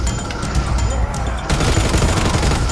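Dense, rapid machine-gun fire in Call of Duty WWII Nazi Zombies, loud and continuous bursts that intensify sharply halfway through.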